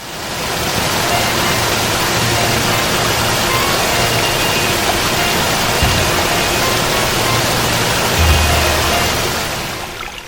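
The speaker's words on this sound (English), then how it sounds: "Amidst the noise of rapid water flushing below" Loud, steady rushing water roars continuously, a dense broadband wash with a deeper rumble swelling briefly toward the end.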